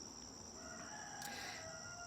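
A rooster crows faintly in the distance, one drawn-out call rising over quiet background hiss.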